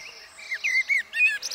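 A song thrush sings a short run of clear, whistled phrases, three or four quick notes with brief gaps between them, close and distinct against a quiet background.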